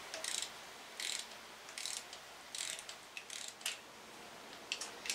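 A ratchet snugs bolts on the 3.5L five-cylinder engine of a 2006 Hummer H3 during head and front cover work, with quick bursts of close metallic clicking repeated about once a second and pauses between strokes.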